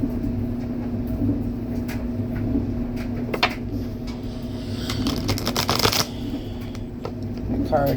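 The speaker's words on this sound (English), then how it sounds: "I would just want to shuffle and make sure we get a good shuffle" Tarot cards are shuffled close up in repeated riffling bursts and soft slaps, with a low steady hum underneath and a voice talking at times.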